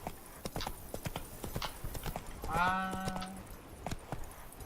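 A horse galloping in The Witcher 3 video game, steady rapid hoof clip-clops with a brief whinny midway, and a short spoken interjection.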